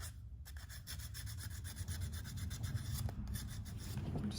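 Sandpaper of 220 grit rubbing over painted wood on a thrift-store piece, a steady close scratchy swishing that runs continuously with no talk.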